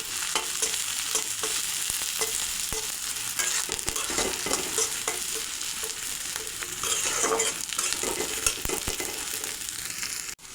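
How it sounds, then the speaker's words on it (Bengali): Chopped onion sizzles in a hot pan as garlic and green chili are added and stirred for a Bengali duck egg and tomato curry, steady loud frying with repeated spatula scrapes, no talking. "পেঁয়াজ কুচিটা ভাজা হয়েছে, এখন দিয়ে দেব রসুন আর কাঁচামরিচ কুচি।"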